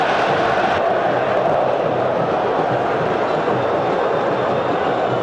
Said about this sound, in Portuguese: E a torcida pede Dagoberto.